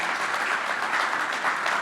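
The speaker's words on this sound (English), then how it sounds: "Give a round of applause." An event audience applauds in a dense, steady round of clapping that fills the whole short moment at moderate volume.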